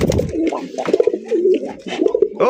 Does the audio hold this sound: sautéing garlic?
no